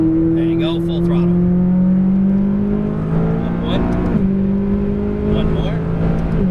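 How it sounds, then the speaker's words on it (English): A McLaren 570S sports car accelerates at full throttle on a racetrack, its engine a loud, close, sustained howl that climbs steadily in pitch and shifts briefly midway. "There you go, full throttle."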